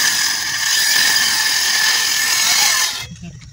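A cutter machine runs steadily while cutting along marked lines on a wooden boat under construction in India, a loud continuous high whine with mechanical rattle that stops abruptly near the end, leaving quiet.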